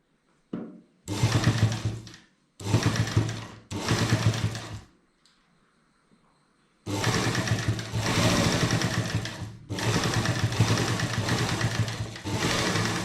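A sewing machine stitches a fabric loop strip into a kurta in several rapid whirring bursts, separated by short pauses and a longer quiet gap, each run sounding close and steady.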